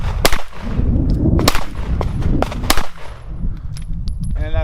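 A Gen 3 Glock 19 9mm pistol fires about seven sharp, loud, close shots at an irregular pace on a shooting range, each crack ringing briefly, and a voice is heard faintly at the very end.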